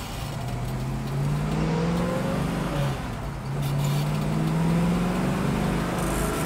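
A 1965 Ford Mustang Fastback engine pulls hard under acceleration, its rising drone dropping at each gear shift, loud and steady from inside the car with no talking.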